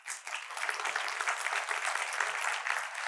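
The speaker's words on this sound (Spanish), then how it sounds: "¿Podemos dar un aplauso por eso?" A congregation in a Spanish-speaking church service breaks into steady, sustained applause that fills the room from start to finish, dense and even with no voices standing out.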